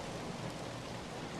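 Gentle rain falls in a steady, even hiss, soft and continuous with no distinct drops standing out, alone and without any voices.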